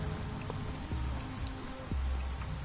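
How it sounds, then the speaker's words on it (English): Steady rain falling in the horror RPG Pathologic, an even patter of drops on surfaces filling the whole stretch with a few low thuds underneath and no talking. "It is raining."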